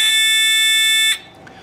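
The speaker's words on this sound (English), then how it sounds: "this really obnoxious little buzzer, which is quite a fun thing to play with" A small electric buzzer in a simple circuit gives a loud, shrill continuous electronic tone for about a second before cutting off abruptly into quiet room noise.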